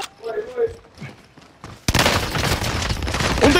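Gunfire in a video game match: quiet scattered shots and talking at first, then a sudden burst of dense, loud rapid firing that continues under excited voices.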